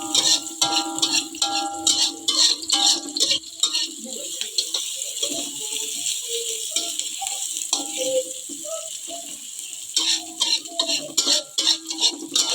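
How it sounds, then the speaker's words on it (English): Chopped onion being stirred into fried noodles in a pan, with repeated scraping and rattling of a utensil against metal over a soft sizzle, loud and close, with quieter stretches in the middle. "add the chopped of onion and then stir well"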